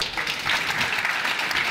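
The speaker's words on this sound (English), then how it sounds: "Let's give him a round of applause." A conference audience applauding a panelist coming on stage, dense steady clapping from a crowd throughout the short burst, fairly close and loud.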